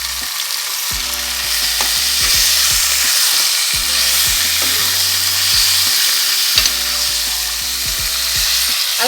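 Chicken pieces sizzle loudly and continuously in a hot pan with ginger and garlic for Chettinad chicken, with intermittent scraping and stirring knocks of a utensil over the steady frying hiss.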